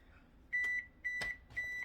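Three short electronic oven beeps, evenly spaced and fairly loud, signal that the oven has finished preheating to 350 degrees in a home kitchen, with faint room noise in between.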